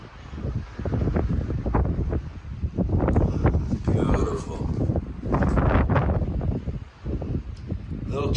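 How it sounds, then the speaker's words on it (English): Gusty wind buffets the microphone atop a fire tower on the Mt. Smarts summit, producing loud low rumbling bursts in waves, with a person speaking briefly. "A little chilly up here, windy too."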